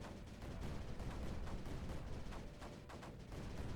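Mortars fire over and over in the strategy game Creeper World 4, a dense, steady barrage of thumping launches and blasts that runs without a break, loud and close, with no talk.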